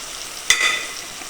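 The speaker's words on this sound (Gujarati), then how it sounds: "તેને પણ બરાબર આમ તેલ સાથે શેકી લેશું" Ingredients for spicy fasting-style morayo khichdi roasting in oil in a pan, a soft continuous sizzle with a sharp bright crackle burst partway through, close by and without speech.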